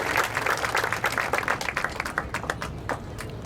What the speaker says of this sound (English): they deserve a big round of applause for all that they've done